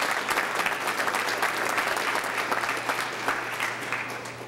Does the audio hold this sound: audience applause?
yes